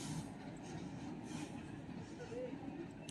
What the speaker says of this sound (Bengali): ব্রিজের মধ্যে অলরেডি প্রবেশ করে গেছে ডবল লোকোমোটিভ 10টা ববিয়ান লোড নিয়ে।